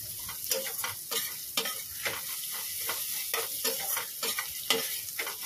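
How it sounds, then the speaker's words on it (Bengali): Onions fry in a pan with a steady sizzle while a spatula scrapes and stirs them in a quick, repeated rhythm of sharp scraping strokes, all close by. "দেখছো পেঁয়াজটা কতটা লাল লাল করে ভাজা হয়ে গেছে।"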